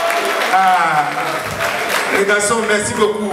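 Comedy show audience applauding at a stand-up performance in Sousse, a steady patter of clapping from the crowd running beneath the comedian's spoken thanks.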